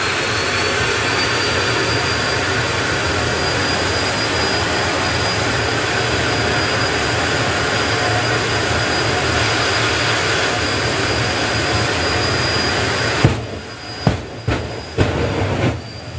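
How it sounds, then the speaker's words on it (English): A jet turbine engine on a drag racing car roars at a drag racing event, a loud, steady, broadband rush held for most of the stretch before several sharp blips and pops near the end. "bring that turbine right up"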